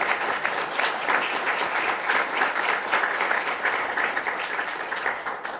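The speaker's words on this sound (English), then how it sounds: "How about a round of applause for the panelists?" A room full of people applauding, dense continuous clapping that holds steady for several seconds and tapers slightly toward the end.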